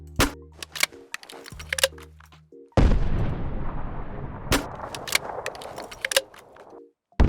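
Fallout 4 custom grenade launcher mod fires with sharp, booming shots and a series of reload clicks and metallic clacks, punchy and close, with rumbling explosions trailing between bursts of handling noise.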